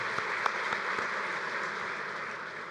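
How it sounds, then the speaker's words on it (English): Audience at a bowling association convention giving a round of applause, steady hall-filling clapping with a few sharper individual claps standing out near the start. "so please give him a round of applause"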